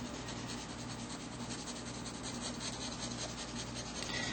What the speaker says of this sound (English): go ahead and go to the darker marker, and go ahead and color in the center.